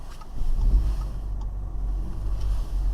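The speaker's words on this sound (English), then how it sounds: "Now I'm going to make this turn controlled and go up the hill because of the winter tyres." A car fitted with Avon WV7 winter tyres pulls up a slippery hill, a low steady engine rumble with some wind buffeting, close and without talking.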